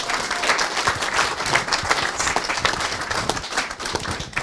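An audience at a real estate training event bursts into sustained applause to welcome a trainer, dense and fairly loud clapping from many hands that holds steady throughout with no one speaking over it.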